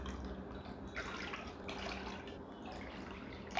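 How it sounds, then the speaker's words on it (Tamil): Water pours steadily into a pot in a home kitchen while making rasagulla, a continuous close splashing and gurgling rush with no talking. "4 கப் கிட்ட தண்ணி விடணும்."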